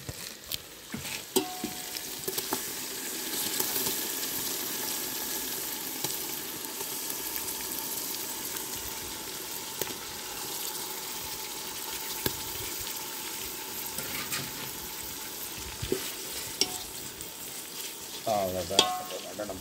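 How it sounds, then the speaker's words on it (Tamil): Mutton frying with softened tomatoes in a pan for biryani, a steady close sizzle broken by scraping stirs and clatters of the spoon against the pan. "தக்காளி மட்டனை போடுவோம்."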